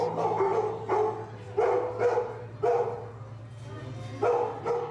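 Several dogs bark in loud, repeated bursts at an animal services open house with kennel doors open, the barks coming in uneven clusters close by over a low steady background hum.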